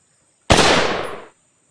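A single sharp, loud bang from a firecracker, its burst decaying over about a second, with silence before and after.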